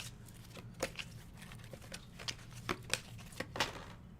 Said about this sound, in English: I'll shuffle my deck here.